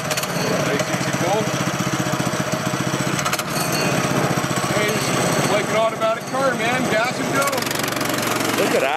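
A small $90 Princess Auto gasoline engine on a farm runs steadily and loudly from start to finish, a continuous mid-pitched chugging drone, with voices talking over it.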